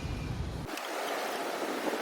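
Gasoline pours and splashes from a disconnected fuel hose on a Toro 7HP R-Tek 24-inch single-stage two-stroke Snow Commander snowblower, a steady liquid hiss that starts abruptly and continues close by.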